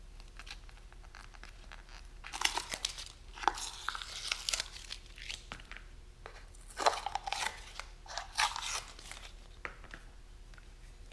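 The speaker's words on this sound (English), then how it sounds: "First I gotta just pull all this tape off here." Adhesive tape being peeled and pulled off brake caliper parts during a rebuild for a 2004 Chevrolet Silverado, heard as crinkly tearing and crackling bursts in two main clusters, close and fairly quiet, with no talking.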